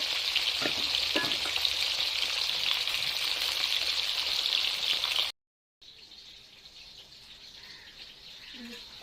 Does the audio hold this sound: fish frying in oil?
yes